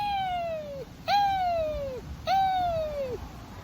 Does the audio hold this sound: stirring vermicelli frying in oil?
no